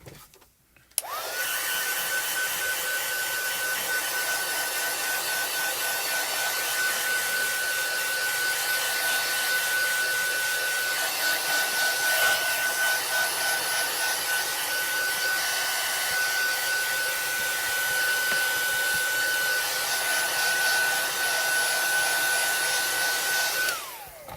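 A hair dryer blows steadily and loudly over a gel press print for over twenty seconds, switching on abruptly at the start and cutting off at the end, with no talking.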